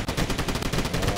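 Rapid, continuous gunfire bursts, loud and close, with a dense rattling rhythm like an automatic weapon in a game.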